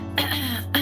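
Two short, close coughs separated by a pause, the second brief and sharp, loud and on their own.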